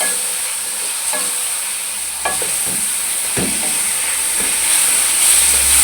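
Chicken pieces frying in a pan for a lauki chicken curry, with a steady close sizzle and hiss and intermittent scraping stirs, gradually getting louder toward the end; no talking.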